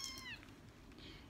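A skinny, sick kitten with a nose problem gives one short, high, wavering cry at the start, then faint background noise follows.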